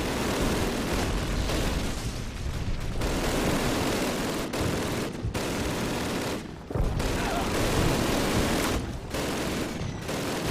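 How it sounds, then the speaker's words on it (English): Mortar fire and gunfire in the first Call of Duty game, a dense, loud, continuous barrage of blasts and rattling shots with brief gaps between bursts. "Keep your heads down! Mortars!"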